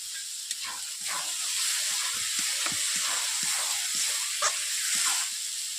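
Two bay leaves with coriander frying in hot oil in a pan while preparing a Bengali curry of pond snails, a steady close sizzle with faint crackles and occasional small pops.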